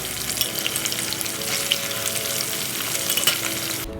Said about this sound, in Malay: Sekarang kita akan goreng ikan.